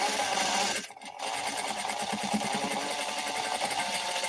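A sewing machine running steadily while quilting, a close, loud continuous whir with a rapid needle rhythm, briefly dipping about a second in before resuming at an even pace, with no speech.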